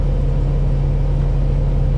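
Steady low engine rumble of a Q112 city bus, heard from onboard, with a constant drone and faint cabin hum throughout and no voices.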